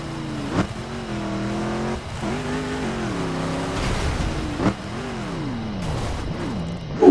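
Rear-wheel-drive car engine in The Crew racing game, revving steadily with rising and falling pitch sweeps and gear shifts, loud and continuous throughout with no speech.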